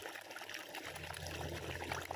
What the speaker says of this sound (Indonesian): maka air akan dinaikkan masuk kembali ke dalam kolam